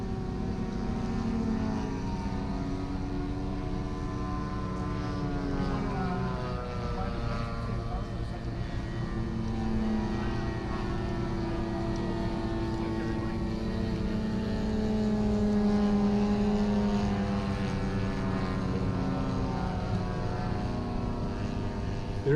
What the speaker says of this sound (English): The airplane that's coming through right now, this is the Eindecker.